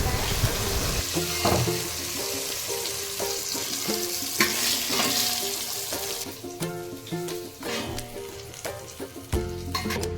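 Fish pieces frying in oil for a Godavari-style Andhra fish curry, a loud close sizzle and crackle with scraping and stirring knocks throughout.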